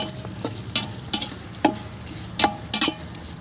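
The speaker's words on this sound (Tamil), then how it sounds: "இது எல்லாத்தையுமே நல்லா மிக்ஸ் பண்ணிடலாம்" Mushroom biryani mixture being stirred in a pot over heat, cooked in traditional style: a soft frying hiss under repeated sharp spoon scrapes and knocks against the pot, arriving in irregular bursts.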